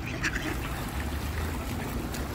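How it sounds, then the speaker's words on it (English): Ducks quacking close by at the water's edge of a pond in Essex County, New Jersey, after the ice has melted, with a steady low rumble of outdoor background noise underneath. "I come down here by the water and I feed the ducks"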